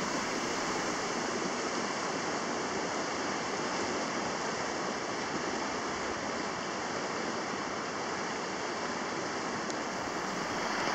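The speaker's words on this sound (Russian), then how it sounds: "А это второй порог за сегодня, и он, в отличие от первого, довольно мощный." A powerful rapid on the Voloma river in Karelia, a three-step stretch of whitewater, roars as a dense, unbroken rushing wash from start to finish, with no voices over it.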